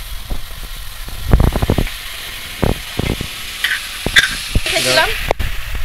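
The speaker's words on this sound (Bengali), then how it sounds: "মূলো কিন্তু খুব বেশিক্ষণ ভাজবো না, আমি 1 মিনিট মতো একটু ভেজে নেব" Fresh radish frying briefly in oil for a sour prawn dish, heard as close spatula clanks and scrapes over a low, steady sizzle, with a voice briefly audible.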